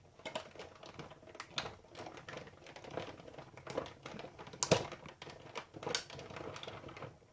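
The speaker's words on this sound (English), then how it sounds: "You'll hear all kinds of popping and creaking, and that's what it does." Acrylic plates with a die running through a die-cutting machine, giving a continuous run of small pops, clicks and creaks with a few sharper cracks, close and fairly quiet.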